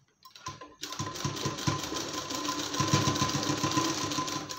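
A sewing machine stitching a blouse sleeve, starting after a short pause and then running as a fast, even mechanical chatter of needle strokes, close up and steady to the end.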